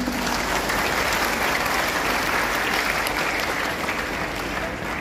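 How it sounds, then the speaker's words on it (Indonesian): Sustained audience applause at a graduation ceremony, a dense, even clatter of many hands clapping continuously throughout, with faint crowd murmur beneath. "boleh tepuk tangan sekali lagi"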